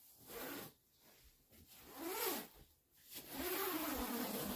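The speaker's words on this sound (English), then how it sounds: "I'm going to come over here and just start zipping it on" A quilt is zipped onto a longarm quilting machine's Quick Zip system in a few separate pulls, each a soft rising and falling zipping rasp, close by and fairly quiet.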